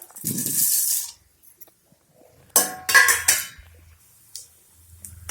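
Dry lentils tumble into a hot clay pot for roasting, a bright rattling clatter at the start, followed by a few sharper clinks and scraping knocks against the earthenware.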